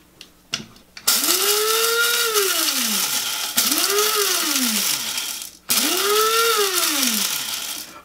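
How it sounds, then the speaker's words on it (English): Coffee grinder pulverizing dried cochineal bugs in three loud whirring bursts, each motor whine rising then sagging in pitch, separated by brief pauses, with a faint rattle and clicks at the start. "So I've got that in the coffee grinder."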